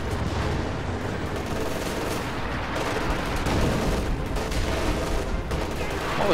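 Sustained MG-34 machine gun fire in a World War II video game, dense continuous bursts mixed with other gunfire and distant booms, loud and unbroken throughout.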